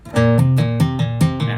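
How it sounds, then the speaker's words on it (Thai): Electric guitar hammer-ons and pull-offs alternate quickly between two pitches in a steady repeating pattern, bright and close, with no voices. "ตบเกี่ยวสายให้มันมีเสียงแบบนี้นะครับ"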